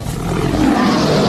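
A voice imitates a lion with one loud, rough, sustained roar, close and filling the whole moment.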